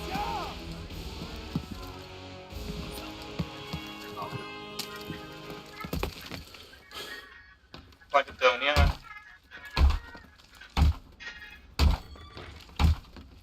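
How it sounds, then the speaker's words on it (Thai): Artillery strikes landing in the Enlisted war game sound as a series of heavy, evenly spaced thumps and cracks. Voices and game noise fill the background. "ตอนนี้อาร์ตีลงมา"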